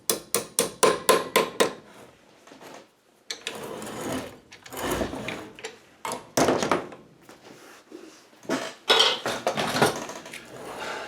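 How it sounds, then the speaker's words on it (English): A small hammer taps during the reassembly of a Royal full metal upright vacuum, with a quick run of sharp metallic taps, then scattered knocks and handling clatter. "Small hammer."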